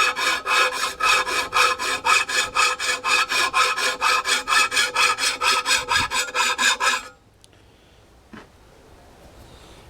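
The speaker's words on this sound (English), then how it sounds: "So basically all I'm going to do is just take the file like so and" A hand file scrapes rhythmically along a sword's edge, about twenty-five quick, even up-and-down strokes up close, then stops abruptly, leaving faint room noise with a couple of light clicks.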